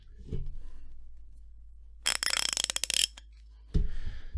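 A Harbor Freight 1/2 inch quick-release ratchet handled up close, giving a sharp burst of rapid clicking from the pawl for about a second between quieter handling sounds, with no voices.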